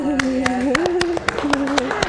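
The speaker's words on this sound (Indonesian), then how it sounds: "Ini di studio ini semuanya tepuk tangan loh pemirsa" Studio audience applauding, with sharp, irregular claps popping out over a person talking throughout, the clapping scattered rather than a dense ovation.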